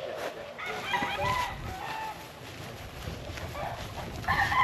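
Fighting roosters crow and cluck amid steady outdoor background noise, several birds calling at varying distances, one crow louder near the end.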